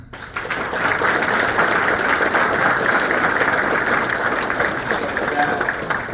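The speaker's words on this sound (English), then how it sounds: "That deserves a round of applause." Loud, steady applause from a town hall audience in San Angelo, Texas, rising quickly and holding as a dense roar of clapping for several seconds.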